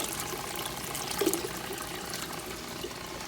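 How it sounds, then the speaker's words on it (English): Worm treatment poured into an aquarium tank at the filter inlet, a soft pouring splash near the middle heard over the steady trickle and bubble of water, faint and continuous, with no talk. "I'm gonna try and pour it in right at the filter inlet so it disperses it right through the tank"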